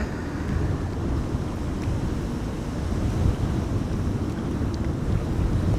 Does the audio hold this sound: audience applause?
no